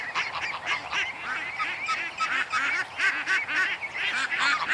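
A flock of geese with their goslings honks near the cedar trees, with overlapping calls repeating in a lively, irregular chorus at moderate distance.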